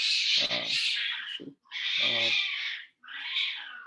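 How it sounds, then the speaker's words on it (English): A house cat meows three times indoors, drawn-out and loud, with short gaps between the cries and no other sound. "excuse me for that, it's my cat"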